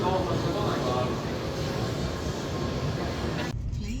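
A moving passenger train in Japan rumbles with a steady, loud roar of wheels and carriage noise, cut off abruptly near the end.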